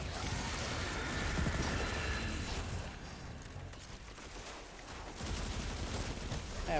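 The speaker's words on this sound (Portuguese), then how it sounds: "joguei uma granada." Thrown grenade exploding in Destiny 2 amid a firefight, dense bursts of blasts and rapid weapon fire continuing, easing slightly midway, then surging again, with faint voices underneath.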